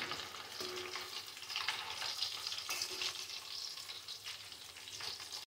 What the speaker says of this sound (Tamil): எல்லா மீன்களையும் நம்ம மசாலா போட்ட எல்லா மீன்களையும் இதே மாதிரி வந்து நம்ம பொரிச்சு எடுக்கணும்